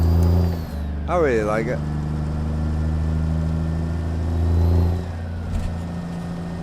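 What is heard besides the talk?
Cummins N14 Select Plus truck engine, American Truck Simulator video game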